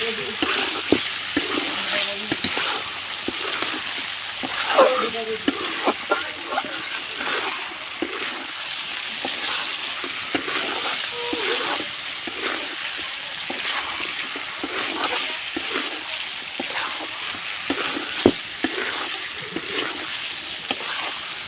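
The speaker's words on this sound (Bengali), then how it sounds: "মাংস আমাদের কষানো শেষ, অনেক ভাজা হয়েছে।" Steady loud sizzling of meat frying in a pan, with frequent scraping and clanking as it is stirred throughout.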